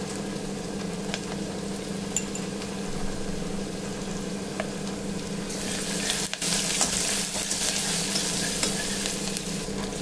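Onions fry in a pan with turmeric and crushed garlic for pepper rasam, giving a steady, close sizzle that brightens into a louder, hissier crackle partway through, with no voices.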